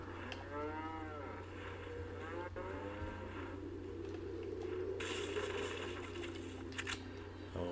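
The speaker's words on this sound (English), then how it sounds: "Don't hide behind your moo cow." A cow in the video game Resident Evil 4 lets out a few drawn-out moos early on, over a constant low hum of game ambience with occasional mechanical clatter.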